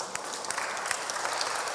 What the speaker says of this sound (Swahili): Si upigiwe makofi.